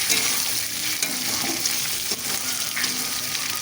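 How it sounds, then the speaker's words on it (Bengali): Fish poured into a hot black wok and stirred gives a loud, continuous frying sizzle, broken by occasional scraping and clinking from the stirring. "এবার আমি মাছগুলো ঢেলে দিচ্ছি। ঠিক আছে, মাছগুলোকে ঢেলে এইভাবে নড়াচড়া করব।"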